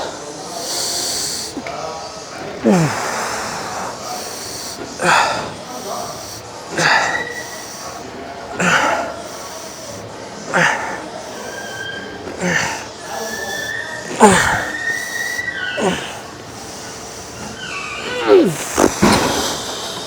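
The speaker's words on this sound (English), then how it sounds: "A lot of breathing on that last one" Heavy breathing during a leg workout: deep, forceful inhales and exhales recur roughly every two seconds, loud and close, with strained snort-like puffs and hissing breaths and no talk.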